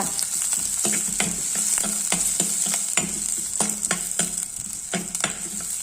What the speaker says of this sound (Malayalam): ആ ഉള്ളി ഒന്ന് പതുക്കെ മൂക്കണം.